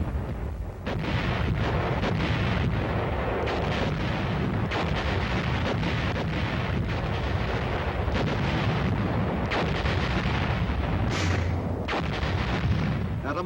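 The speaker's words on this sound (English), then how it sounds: "Artillery pounded their positions around the clock" Wartime artillery booms in a mountain valley, heavy thumps landing every second or so in a dense rumbling barrage, loud and sustained over wind buffeting the microphone.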